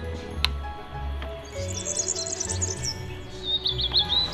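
Small birds in a garden bed of dill and parsley seedlings give bursts of quick, high chirps, first in the middle and again near the end, over a low rumbling background.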